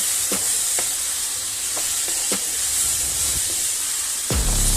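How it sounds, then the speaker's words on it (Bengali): Turmeric powder is stirred into a sizzling masala for ridge gourd prawn curry, with a constant close frying hiss broken by several short spatula scrapes and a louder scrape at the end. "এবার হলুদ গুঁড়োটাও আমি ভালো করে মিশিয়ে নেব।"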